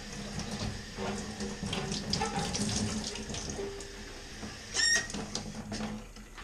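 Running tap water splashes over a cymbal being rinsed in a sink, a steady close stream with shifting splatter and a brief louder gush near the end, no voices.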